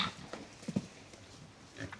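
Several pigs grunt and squabble in short bursts while fighting over a log in a farm pen, with rough snorting grunts rising at a few moments over a low, quiet background.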